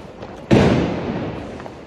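A single loud firecracker bursts nearby on Diwali night, a sharp bang followed by a decaying crackling rumble.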